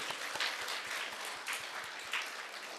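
A church congregation applauds together during a Sunday worship service, a dense, steady wash of many hands clapping at moderate volume with a few sharper individual claps standing out.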